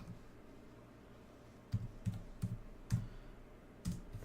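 Password being typed on the HP x2 Chromebook 2-in-1 keyboard: five or six separate soft key clicks at uneven intervals, close and fairly quiet, after a short stretch of near silence.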